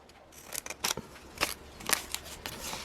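Scissors cut paper for a junk journal embellishment, a series of close, crisp snips and rustles at uneven intervals, with no talk.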